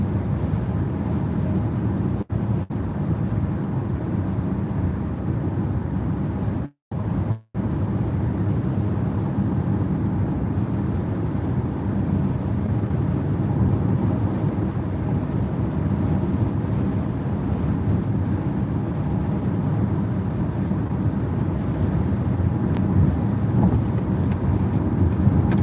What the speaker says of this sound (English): Now the wind's coming up a little bit.